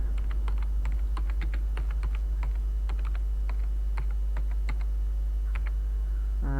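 A name being typed on a computer keyboard, steady irregular key clicks spread across the span, close and fairly quiet over a constant low hum, with no talking.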